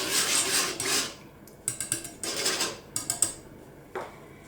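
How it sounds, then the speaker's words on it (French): A sugar mixture is stirred in a pan, giving a few bursts of scraping and clinking from the utensil against the metal, separated by short quiet gaps, close and fairly loud. "Je vais mélanger"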